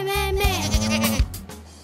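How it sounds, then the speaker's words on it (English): A goat bleats in a children's educational cartoon, a wavering nasal "meh" pulsing in several quick beats, loud and close, with a musical tone running beneath it. "Goat goes meh, meh,"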